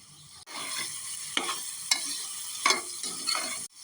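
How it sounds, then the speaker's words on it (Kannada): Potatoes frying with vegetables in a pressure cooker for green pulao, close sizzling under repeated sharp spoon strokes scraping the pot, four or five distinct stirs. "ಈಗ ಬಟಾಟೆಯನ್ನು ಹಾಕಿ ಮಿಕ್ಸ್ ಮಾಡಿ"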